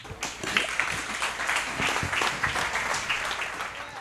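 Audience applauding at a live music show, dense steady clapping from a crowd filling the whole moment, fairly loud with a faint voice underneath.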